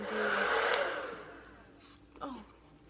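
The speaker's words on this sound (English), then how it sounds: "this is my blow dryer and I just have this thing that you put on top of it, and then I use the cold setting" A blow dryer fitted with an attachment on top blows a steady whoosh on its lowest cold setting, then the airflow fades away, followed by a short faint rustle.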